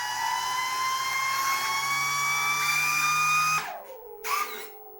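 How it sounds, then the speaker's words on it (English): An electric ducted fan motor on a 3D-printed RC VTOL aircraft whines steadily at high pitch, close and loud, then cuts off abruptly near the end, followed by a brief mechanical clunk as the covers close. "Now we can see it again with a little bit of motor running"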